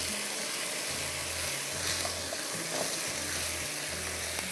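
Food frying in a pan as ajwain potatoes and chillies are cooked, a steady close sizzle with faint stirring, no voices.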